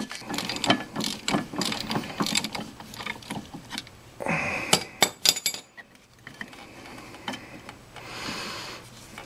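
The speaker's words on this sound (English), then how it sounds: "I've got a 9/16" nut on the top, and I've got a 5/8" open end wrench here." A wrench working a 9/16" nut on the CV shaft of a Polaris Sportsman 500 ATV, giving rapid repeated ratcheting clicks and metallic clinks up close. The clicks come in bursts with short pauses, then turn sparser and fainter toward the end.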